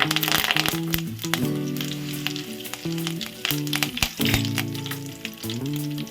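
Curry leaves go into hot oil with tempering seeds for a Telugu cauliflower tomato curry, giving a steady loud sizzle and crackle throughout, with a tonal hum underneath and no voices.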